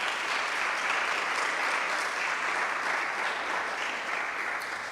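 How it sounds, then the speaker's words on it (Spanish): A church congregation applauds the Lord during a sermon, a dense, even wash of clapping that holds steady for about five seconds at moderate loudness with no talking over it. "Puede darle un fuerte aplauso al Señor por eso."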